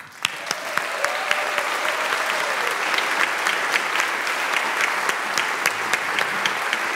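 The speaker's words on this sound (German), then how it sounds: "Ich würde sagen, Applaus für die Jazzweek in Köln." An audience at a live jazz concert during the Cologne Jazzweek claps steadily and enthusiastically, a dense sustained wash of applause with a few sharper individual claps standing out.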